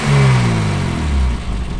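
A BMW E30 engine revs up close, swelling to a loud growl and then dropping back toward idle within a couple of seconds.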